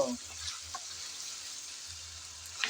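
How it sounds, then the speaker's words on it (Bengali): Drumsticks and mixed vegetables stir-fry in a pan for a five-vegetable curry, making a faint, steady sizzle with a couple of soft stirring clicks over a low background hum. "সজনে ডাঁটা দিয়ে আবারও নেড়ে চেড়ে ভালোভাবে কষিয়ে নেব।"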